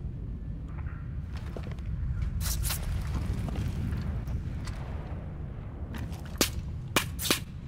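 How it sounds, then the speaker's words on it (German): Far Cry 5 video game gunfire: several sharp broadband shots crack out, two close together early and a cluster of three near the end, over a steady low rumble of game ambience. "Jetzt höre ich Schüsse?"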